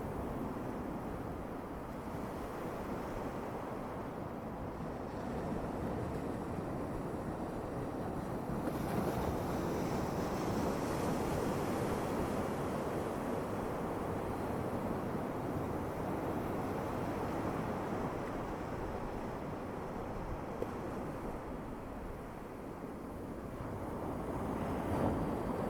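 North Atlantic Beach waves in February, a continuous wash of surf mixed with wind buffeting the microphone, steady and fairly faint, with no voices.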